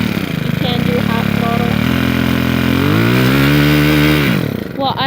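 A four-mix weed eater with a paddle attachment revs hard, its engine note climbing and falling with throttle in one loud, continuous run close by, dropping off near the end.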